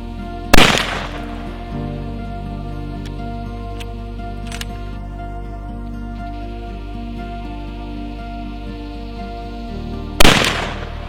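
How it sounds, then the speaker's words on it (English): Two sharp, loud rifle shots ring out about ten seconds apart while weapons are tested before a Cape buffalo hunt, with a steady low hum filling the gap between them. "After checking the weapons and testing the trigger pull,"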